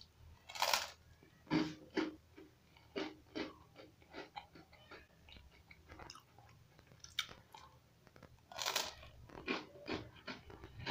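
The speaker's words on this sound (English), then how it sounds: "Listen to the crunch." Loud, close crunches of biting into crisp toast topped with avocado and oregano, followed by softer chewing between bites, with quiet pauses in between.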